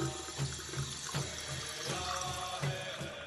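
Water running from a faucet into a sink for hand washing, a steady splashing hiss with faint irregular drips and splats, close and fairly quiet, no voices.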